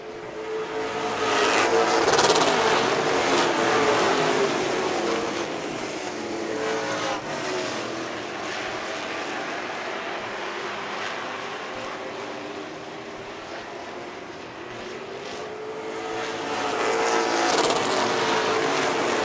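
Pro stock race cars lapping a short oval track at Reno, engines roaring as they sweep past, swelling loud then easing off in long waves with a continuous mechanical drone throughout.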